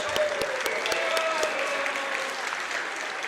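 Applause and crowd noise in a school gym at a girls' basketball game, honoring four seniors, steady and moderately loud with a few sharp claps standing out near the start.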